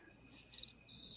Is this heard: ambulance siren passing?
no